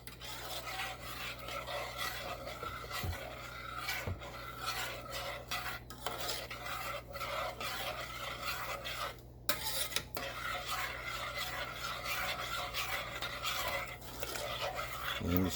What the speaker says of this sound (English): just keep stirring it inside the pan, as you can see